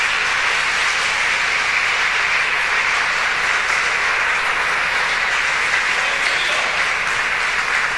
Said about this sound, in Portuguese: Dê um aplauso à boa palavra de Deus